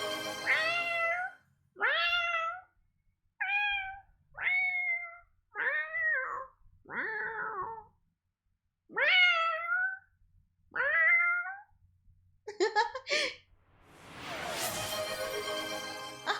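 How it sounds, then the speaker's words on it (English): A cat meows repeatedly and loudly up close, about ten drawn-out cries in an uneven rhythm, ending in a rougher, noisier yowl. "Hey, cat."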